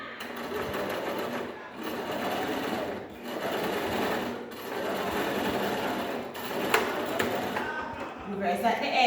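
A sewing machine stitches a fabric seam along the 5/8 guide, with a short reverse stitch, running as a steady close whir in long bursts broken by brief pauses.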